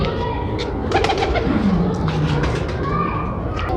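Racing pigeons, a cross of red-pied and other lines, coo softly and steadily close by, a low rolling murmur running through the clip with brief higher chirps and a faint voice in the background.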